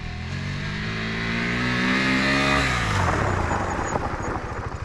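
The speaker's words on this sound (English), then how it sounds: "braking on a level gravel road" A KTM 390 Adventure motorcycle brakes on a level gravel road, its single-cylinder engine loud and close, falling in pitch as it slows, with gravel crunching and tyre noise at the end.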